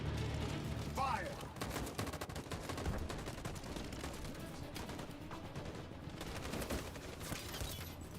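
Rapid video-game gunfire in a squad battle, dense bursts and volleys crackling continuously and loudly across the whole stretch with faint voices mixed under the shooting.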